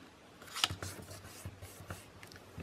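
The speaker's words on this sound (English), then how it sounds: "So now I'm also going to fold just up one more time" Paper being folded by hand for a pamphlet-stitch book signature: soft close crinkles and creasing rubs, with one sharper crisp snap early on, quiet and irregular, no talking.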